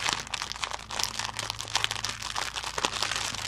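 Plastic packaging of a Marie Antoinette kit crinkles and crunches continuously as it is pulled open, close up and busy, with no talk.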